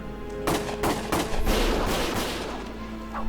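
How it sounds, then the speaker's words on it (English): Bursts of rapid gunfire from the video game Valkyria Chronicles crackle in several loud, close volleys that blend into a sustained rattle of shots, with no voices. "Gunfire!"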